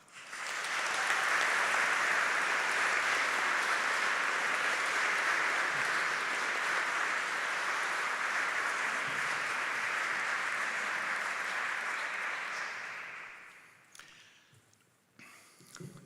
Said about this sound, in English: I invite you to welcome Professor Falk to the podium with a round of applause.